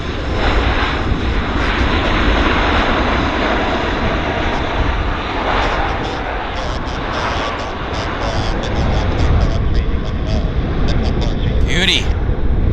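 A Swoop airline jet roars loudly and continuously at Vancouver International Airport, a broad engine rumble that holds steady before easing slightly near the end, with a voice talking over it.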